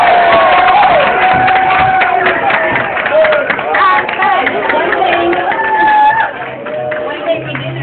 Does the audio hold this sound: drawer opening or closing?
no